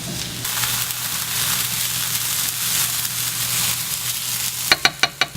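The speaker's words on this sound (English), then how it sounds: "we're gonna toast the buckwheat for about another 3 minutes" Buckwheat toasts with onions and garlic in a hot pan, a steady loud sizzling hiss that runs on, then ends with four sharp taps of a utensil against the pan.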